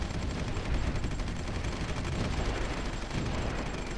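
Artillery fire in the video game Supreme Ruler 2023, a continuous dense barrage of overlapping booms and rattling blasts at steady loudness, with no talking.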